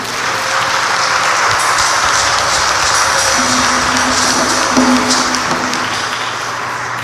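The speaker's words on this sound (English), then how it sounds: "Let's clap for the candidates again." Catholic congregation at an Igbo Mass applauding confirmation candidates during a confirmation service, a dense continuous wash of clapping filling the church, loud and sustained with a faint hum and a brief tone beneath.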